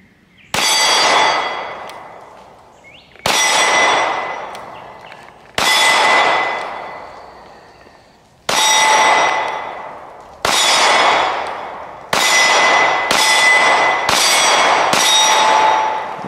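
A Stoeger STR-9 MC pistol fires at a metal plate target: nine loud, close shots at uneven intervals, each with a hit on steel that rings and fades before the next, the last few coming in quicker succession.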